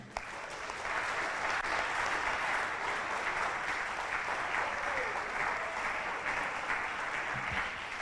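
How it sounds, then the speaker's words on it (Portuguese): A church congregation gives a round of applause, a dense, steady wash of clapping that swells after a brief quiet start and holds evenly, with faint voices underneath. "Vamos dar uma salva de palmas para os bons que estão nesse lugar?"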